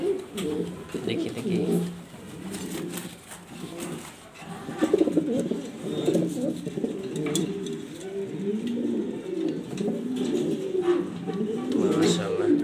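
Black exhibition pigeons coo in repeated low, throaty rolling phrases at close range, with soft bird chirps and a voice speaking at times in the background.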